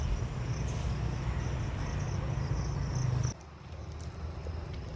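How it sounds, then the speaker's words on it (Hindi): Honey bees flying around a wild hive that is being taken down, a steady, dense buzzing drone close by that drops suddenly to a quieter, more distant hum partway through. "ये मक्खियाँ उड़ना शुरू हो गई हैं आहिस्ता आहिस्ता।"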